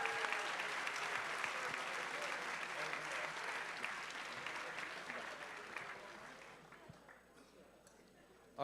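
Audience applause fills a hackathon closing ceremony as winners are announced, a steady dense wash of clapping for about seven seconds that thins and fades near the end.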